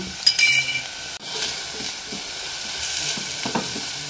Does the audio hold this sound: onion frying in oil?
yes